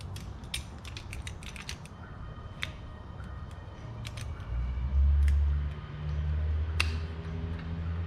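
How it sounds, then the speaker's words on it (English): Pressing the piston back into a rear brake caliper on a 2011 Mercedes GLK350 gives soft mechanical clicks and ticks over a low hum, with a deeper groaning press near the end. "let me press the caliper system in"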